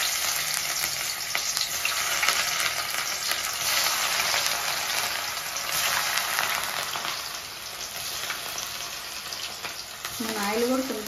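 Cauliflower fried rice (gobi fried rice) frying in oil at a street food stall, a loud, dense, continuous sizzle with stirring scrapes throughout, close up, and a brief voice near the end.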